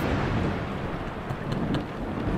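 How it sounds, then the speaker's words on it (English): Heavy rain and thunder in a road trip horror video game: a dense, steady roar of downpour that fills the whole stretch at constant loudness, with no voices. "Rain, cats and dogs."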